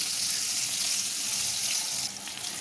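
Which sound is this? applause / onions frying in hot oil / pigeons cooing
onions frying in hot oil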